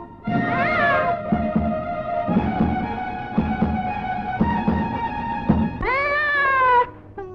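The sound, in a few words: cat meowing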